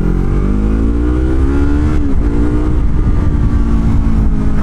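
A Yamaha R3 motorcycle fitted with a slip-on exhaust revs close and loud, its engine note rising and falling with a brief dip mid-rev before climbing again.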